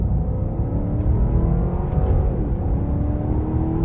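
A 2020 BMW 750i sedan pulls away hard, its engine droning steadily with a rising harmonic whine heard from inside the cabin, loud and continuous for several seconds, no talking.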